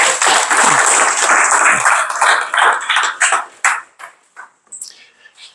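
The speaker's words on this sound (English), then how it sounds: "Give him a round of applause for Hunter" Audience applause for a speaker being introduced at a talk, a dense burst of clapping from a crowd that thins out into scattered, separate claps before fading.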